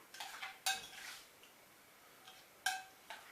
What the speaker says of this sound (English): I'm just going to mix my garlic into my tzatziki sauce